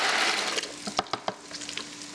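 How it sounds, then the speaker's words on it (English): Dry pasta dumped into a pot of boiling water, a burst of bubbling hiss followed by several sharp clatters and splashes of pasta hitting the pot, close and fairly loud. "I think we have bubbling water here, and that means it's boiling, so we're going to go ahead and dump in our pasta."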